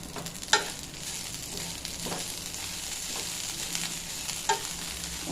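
Pepper, cumin, curry leaves and salt dry-roasting in a pan, a soft continuous rustling crackle broken by a few sharp scraping stirs, close and fairly quiet, no voices.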